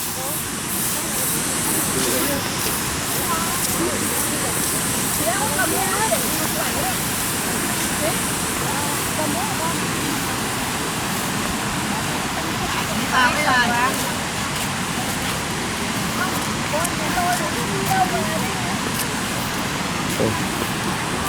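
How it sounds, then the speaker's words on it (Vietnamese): Ban Gioc waterfall roars as a broad, constant rush of water filling the scene, steady and loud, with scattered faint background sounds layered on top. "thác nước ở đằng trước đấy, và tiếng nước thì ta có thể nghe được từ xa"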